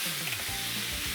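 Sliced pork and onion fry hard in a pan for ginger pork, a loud continuous crackling sizzle heard up close with no voices.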